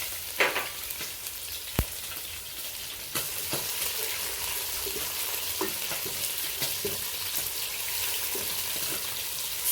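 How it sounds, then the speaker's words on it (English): Boiled beef seasoned with salt, pepper and chili fries in hot oil in a pan, a steady close sizzle with crackling spatters and occasional stirring knocks throughout. "let our meat fry in that oil"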